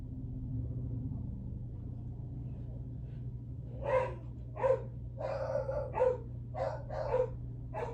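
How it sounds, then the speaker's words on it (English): Several dogs bark in short bursts at moderate distance, about six barks spaced irregularly over a low steady household hum, with no speech. "so sorry for the barking dogs."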